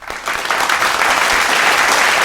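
Studio audience claps loudly and continuously during a Halloween cookie-baking segment, a dense, close burst of applause with no talk over it.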